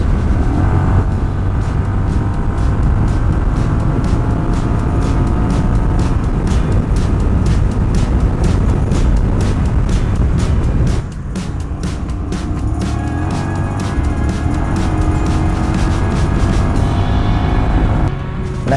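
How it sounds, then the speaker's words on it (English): A Honda Rebel 1100 DCT motorcycle pulling uphill from speed on a throttle roll-on, a loud steady engine drone mixed with heavy wind rush, dipping briefly midway as it shifts, then continuing strong. "This time, I'm going to start at a little higher speed, and we are going uphill."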